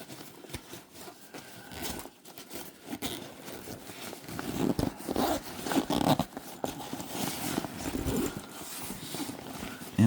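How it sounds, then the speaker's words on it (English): Zippers run open and shut again and again on a duffel bag backpack carry-on, fabric rustling and scraping between the pulls, close and fairly busy throughout. "A lot of zippers."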